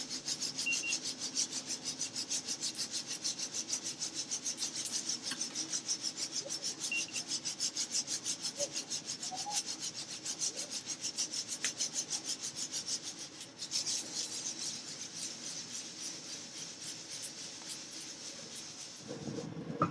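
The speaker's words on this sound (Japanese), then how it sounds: "2ハゼの音は聞こえましたでしょうか？" Rapid, dense crackling and rasping runs steadily throughout as coffee beans reach second crack while hand-net roasting, over a constant mechanical rumble, fairly faint.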